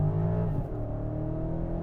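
A 2023 BMW X7 M60i xDrive with an electrified engine accelerating hard from 0 to 60 in Sport Plus mode, a steady loud engine drone that dips briefly as it shifts, then pulls on.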